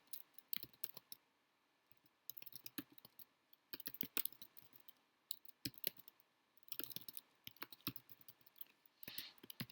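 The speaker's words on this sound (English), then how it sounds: "I'm typing a question in the chat" Quiet, close clatter of a computer keyboard as a question is typed, with irregular bursts of keystrokes separated by short pauses and no speech.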